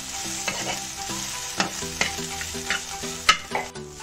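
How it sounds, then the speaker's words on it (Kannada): Coriander and mint leaves frying in a pan for masala chitranna, a steady close sizzle under frequent spoon stirs and scrapes, with a few sharper knocks against the pan. "ಕೊತ್ತಂಬರಿ ಪುದೀನ ಹಾಕ್ಕೊಂಡು ಚೆನ್ನಾಗಿ ಫ್ರೈ ಮಾಡಬೇಕು"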